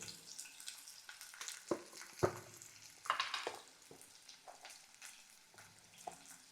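Onions and vegetables for a cluster-bean and tomato curry soften in a pan with turmeric and salt, giving a faint steady sizzle broken by a few scraping stirs and clicks.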